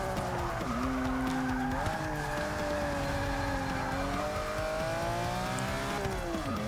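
A 1986 Lamborghini LM002 oversteering in the racing game Forza 6, with a continuous loud tire squeal and skid over a droning engine whose pitch rises and shifts as the slide goes on.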